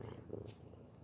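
A kitten purrs softly and steadily up close, a low continuous rumble lasting about a second.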